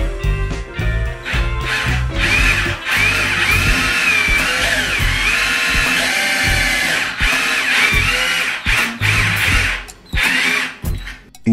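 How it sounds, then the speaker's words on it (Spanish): A small rechargeable cordless drill bores holes into a ceiling, its loud whining motor revving in repeated bursts with brief pauses and grinding as the bit bites into the surface. "pequeño taladro portátil recargable puedes hacer los agujeros con facilidad y precisión"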